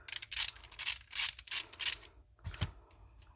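A nut is loosened with a small wrench on a baitcaster fishing reel, giving a close series of sharp ratcheting clicks in quick bursts followed by a couple of softer mechanical knocks.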